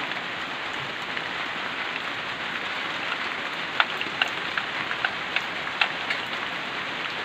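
Steady rain pouring down in a dense, even hiss, with a few sharper drips or taps standing out now and then.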